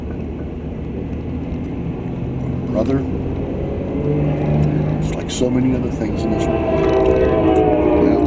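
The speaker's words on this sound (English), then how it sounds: "Oh, it's passenger train. Cascade, yeah. Amtrak." Amtrak Cascades passenger train rolling past outdoors, a steady low rumble of wheels and cars building over several seconds, with people talking nearby over it.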